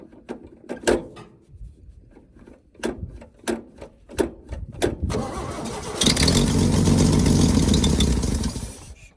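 An old oil field engine cranks with a series of sharp, uneven coughs and pops, then catches and settles into a steady, loud, rumbling idle that holds for the last few seconds.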